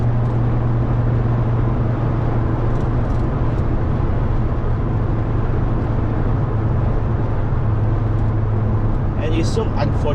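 A Fiat Coupe turbo engine pulls steadily in sixth gear as a loud, continuous low drone with road roar, filling the whole stretch without letup.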